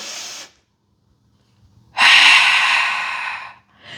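A long, forceful exhale with a strong airy rush, breathed out during a beginner Pilates exercise. It is close and loud, held for about a second and a half after an earlier short breath.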